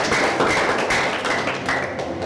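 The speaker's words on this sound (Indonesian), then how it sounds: "Kasih tepuk tangan untuk Tuhan Yesus." An Indonesian church congregation claps together during a Sunday worship service, loud, close and in unison, with a steady rhythm of sharp claps about twice a second.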